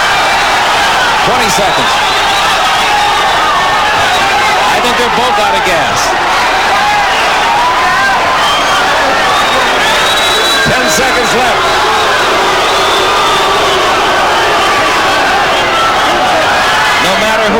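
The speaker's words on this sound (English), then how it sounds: "A tremendous cheer goes up in the crowd because the crowd is evenly divided in their aspect of cheering for their favorite." A boxing arena crowd at a professional title rematch keeps up a steady roar of cheering and shouting throughout, with a commentator talking over it.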